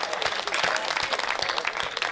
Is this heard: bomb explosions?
no